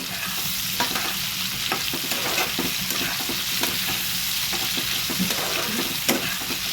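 Potatoes and other vegetables fry in hot oil and are stirred continuously, a loud close sizzle with rapid scraping and clattering strokes of the spoon, no voices.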